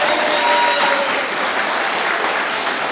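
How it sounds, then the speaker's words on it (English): Wedding guests give a big round of applause during the speeches, a dense, loud wash of clapping that runs steadily from start to finish. "big round of applause for yourselves"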